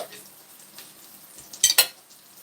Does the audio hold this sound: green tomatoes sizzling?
yes